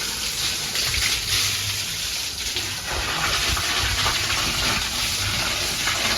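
A peacock splashing and playing in water, a steady broadband rush of splashing and moving water that continues throughout without pause.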